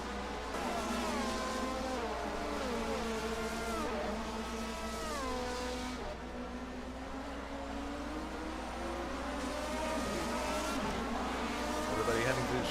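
1980 DRM Division 2 race cars thread through a chicane, their engines droning and rising and falling in pitch as they brake and accelerate. A steady crowd of cars stays audible throughout under a commentator's voice.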